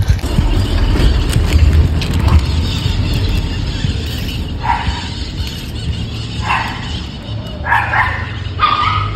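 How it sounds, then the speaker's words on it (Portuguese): Several dogs bark in bursts at a moderate distance, the barking growing more frequent toward the end over a steady outdoor background. "Esses cachorros que tá latindo"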